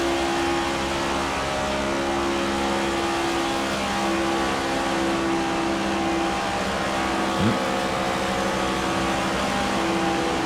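NASCAR stock cars run laps in the NASCAR 25 racing game, a continuous loud engine drone at steady high revs that holds unbroken for about ten seconds, with no talk over it.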